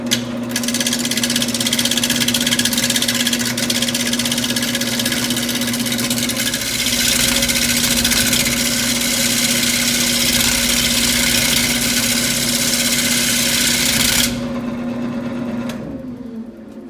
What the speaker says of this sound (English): sometimes the roughing gouge is bouncing around and sometimes it seems to be going pretty smooth